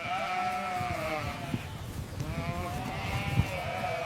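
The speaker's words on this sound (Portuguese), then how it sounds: "Leve as ovelhas para o curral." Sheep bleat repeatedly as they are driven into a pen, several overlapping calls from close by, with people shouting and talking over the flock.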